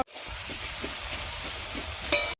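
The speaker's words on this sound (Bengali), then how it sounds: "তেল তেল ফুটফুট করছে পাশ দিয়ে" Hot oil bubbles and sizzles around fried masala in a pan during rural Bengali cooking of rohu with poppy seed, a steady close crackle with a few soft stirring knocks and a brief metallic clink near the end.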